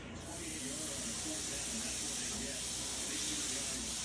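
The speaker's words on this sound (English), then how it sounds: "we are going to put our smash burger taco meat side down first" Smash burger taco meat sizzles on a Deluxe Electric Grill and Griddle, a steady bright hiss that holds evenly throughout with faint crackles beneath.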